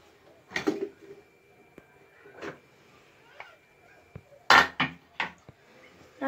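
Metal clanks and clinks from opening a pressure cooker lid while making Tamil sarkarai pongal at home, a few sharp scattered knocks separated by quiet pauses.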